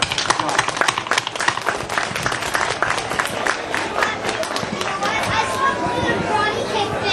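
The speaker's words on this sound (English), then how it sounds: "Give him a round of applause." A festival audience gives a round of applause, dense sharp claps rising and thinning over several seconds amid crowd chatter and voices.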